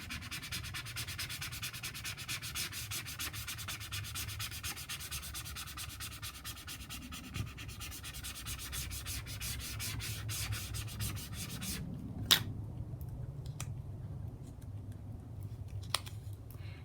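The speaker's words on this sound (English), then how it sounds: "what you're gonna do is just scrape it" Steady scraping of a rub-on transfer onto a paper card, a continuous close, dry rubbing rasp that runs quietly throughout, thinning out toward the end with a couple of faint taps.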